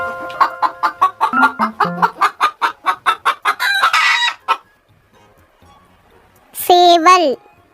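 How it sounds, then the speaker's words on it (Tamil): A hen clucking in a rapid rhythmic series of sharp, close, loud clucks, followed by a pause and a rooster-like crow. "கோழி."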